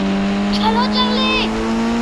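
Car engine humming steadily with a rising whine as it is driven, heard close and moderately loud while people talk over it.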